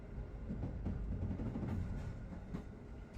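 A train rumbles past at Gliwice Łabędy railway station in Silesia, a loud, steady low roar of wheels on track with faint rhythmic clatter throughout.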